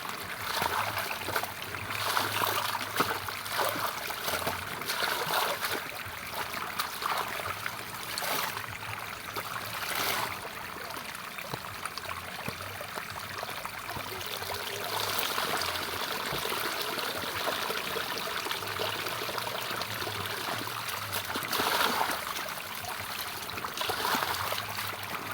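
Clothes being rinsed by hand in water during village laundry, with steady sloshing, swishing and trickling splashes continuing throughout at a moderate, fairly close level, no talking.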